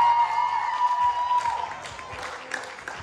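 Audience applause at an improv comedy show, a steady wash of clapping that carries on for about three seconds alongside a sustained whining tone, easing slightly toward the end.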